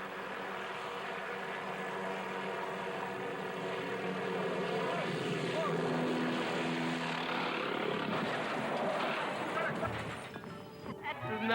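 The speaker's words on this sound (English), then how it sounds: "What starts as a routine lift suddenly turns into terror as the chopper malfunctions." A helicopter flies overhead during a lift with a continuous, dense rotor and turbine roar that holds steady and loud throughout, shifting slightly near the end, with some talk mixed in.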